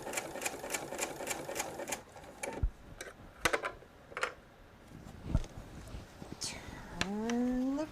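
Sewing machine stitching off the edge of a quilt, a rapid run of needle ticks in the opening two seconds, then scattered clicks and handling thumps, ending with a rising whirring tone.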